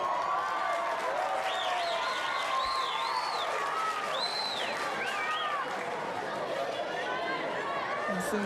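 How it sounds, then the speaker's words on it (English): Football crowd at an A-League match between Newcastle Jets and Brisbane Roar gives scattered sarcastic applause, a dense wash of clapping and chatter in a stadium with whistles chirping over it. "Some sarcastic applause from the crowd as the decision goes the Jets' way."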